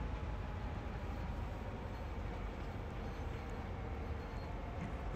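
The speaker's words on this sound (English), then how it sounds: "Hear that mighty engine roar." A diesel locomotive hauling a heavy coal train in the Train Sim World CSX Heavy Haul game gives a steady, loud, low engine roar and rail rumble that holds through the whole stretch without letup.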